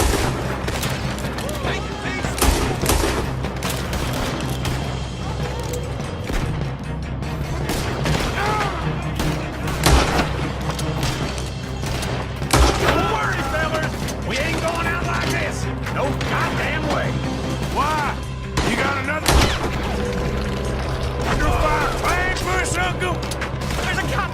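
A sustained gunfight in Red Dead Redemption 2 fills the whole stretch with dense, rapid gunfire. Booms and mechanical clatter mix into the volleys, loud and continuous, with voices shouting underneath.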